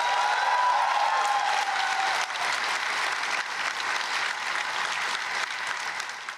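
Crowd applause with a shrill whistle ring out at Arts Council Karachi for stand-up comedian Tabish Hashmi, loud and continuous clapping sustained throughout.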